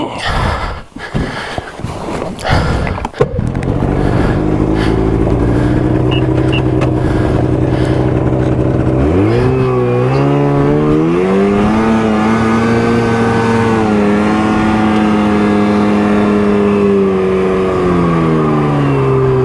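Yamaha VK540 snowmobile engine in Michigan's Upper Peninsula revving up and pulling out of deep snow, loud and close, a steady drone that climbs in pitch as it powers away after a few rough bursts.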